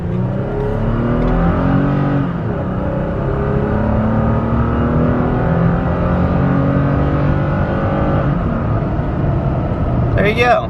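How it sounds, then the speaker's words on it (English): A 2020 Toyota Tacoma V6 engine with a K&N cold air intake drones steadily under highway acceleration, its pitch climbing gradually through gears, moderately loud from inside, with faint road noise. "It sounds like a stock engine, even though we have a V6 under the hood."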